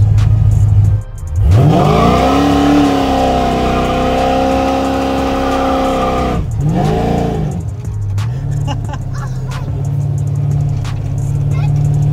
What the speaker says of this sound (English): This part does a pretty good job of turning tires into smoke, doesn't it?